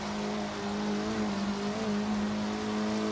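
A small turbocharged Fiat Abarth 695 Biposto engine in Forza Horizon 3 drones steadily with a buzzing, slightly wavering tone, holding a constant pitch without pause.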